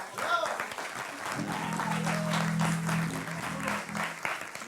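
A studio audience at a Turkish TV talk show applauds in sustained, dense clapping that carries through most of the stretch. People talk over it, and a low-pitched sustained tone sounds in the middle.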